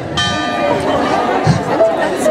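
Church bells ring in Praiano on the Amalfi coast, mixed into steady crowd chatter and nearby voices, with a few clear bell tones sounding over the murmur.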